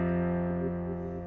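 Sustained piano chord played on the four in a simple lesson demonstration, a steady low-heavy harmonic tone held alone for the full stretch and slowly fading, with no talking.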